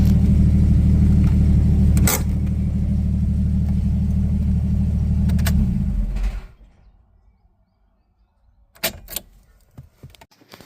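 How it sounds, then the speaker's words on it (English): A 1996 Jeep Cherokee engine idles with a loud, steady close rumble for about six seconds, then cuts off, followed by quiet with a few clanks and rattles near the vehicle. "I think this very well may be the last time this Jeep ever runs."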